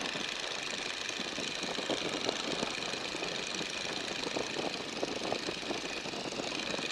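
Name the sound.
light aircraft engine running during flight lesson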